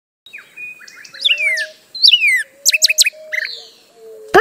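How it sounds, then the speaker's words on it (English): A bird sings alone in a busy run of chirps and whistles, some sliding, some in quick rapid bursts, close and clear against silence. "Bird."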